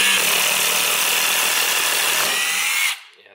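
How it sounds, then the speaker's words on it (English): A Milwaukee M12 FUEL impact driver runs continuously as it drives into wood, a loud, close, steady buzzing whir lasting about three seconds before stopping abruptly. "once it starts to hit some resistance, it starts impacting"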